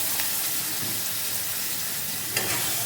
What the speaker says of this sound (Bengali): এবার আমি কিছুটা জল দিয়ে দিচ্ছি এর মধ্যে।